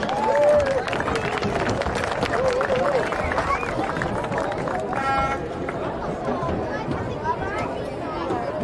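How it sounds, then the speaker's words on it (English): Spectators at a USL2 soccer match between Fort Wayne FC and Atlas FC U-23 give scattered applause amid crowd chatter and nearby voices, and the stadium hubbub continues throughout. "let's give a big round of applause for our ball boys."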